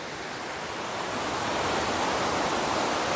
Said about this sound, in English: Love the sound of running water.